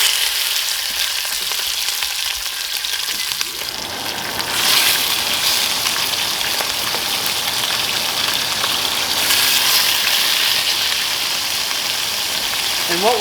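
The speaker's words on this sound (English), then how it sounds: "we're gonna take these legs and brown them up in the Dutch oven" Wild goose legs dropped into a hot Dutch oven to brown: a quiet start gives way to a loud, crackling sizzle that swells and spits steadily, close up, with faint clinks near the end.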